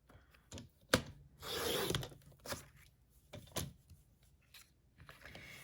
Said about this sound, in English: now I'm going to cut a 3-inch strip